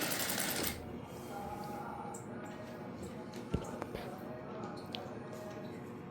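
A sewing machine stitches the back piece of a princess-cut blouse with an open back. It gives a close, continuous mechanical whirr with a few clicks and bumps, and a voice talks over it.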